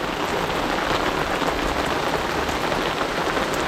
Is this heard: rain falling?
yes